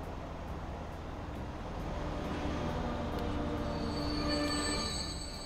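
A freight train pulls away in the Transport Fever rail game, a steady rumble and rolling rattle with a thin wheel squeal rising near the end, alone without speech.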